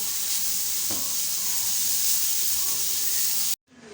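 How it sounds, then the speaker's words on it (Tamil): Carrots sautéing in a pan with tempering give a steady, close sizzle and hiss that runs continuously, with a faint stir scrape near one second, before cutting off abruptly near the end. "இப்போ கேரட்டோடு சேர்த்து வதக்கி விட்டுக்கலாம்"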